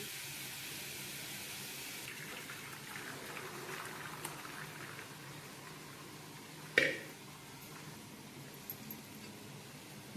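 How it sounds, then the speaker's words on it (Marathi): Boiled rice for chicken biryani is drained through a strainer, giving a soft steady hiss of pouring water that fades to a quieter trickle, with one brief clatter near the end. "हा भात आपला 10 मिनिटं शिजलेला आहे. आता आपण ह्याला गाळून घेऊ."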